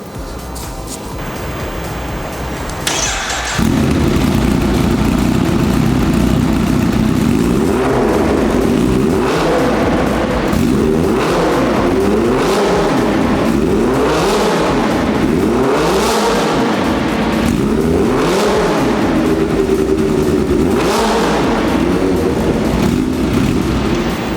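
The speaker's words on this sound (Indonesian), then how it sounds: "dengerin suara mesin dari Kawasaki H2 2023" A loud 2023 Kawasaki Ninja H2 motorcycle engine starts, idles, then is revved repeatedly in rising and falling bursts, close up and continuous.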